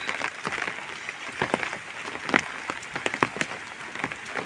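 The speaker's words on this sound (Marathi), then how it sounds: "पाऊस येतो आहे" Rain falls steadily on a village yard beside a goat shelter and trees, a continuous patter with sharper individual drops hitting nearby surfaces, heard alone with no talk.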